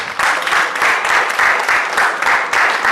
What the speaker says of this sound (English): So we'll clap for north.